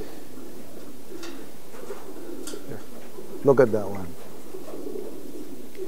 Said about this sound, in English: Really nice, small pigeon.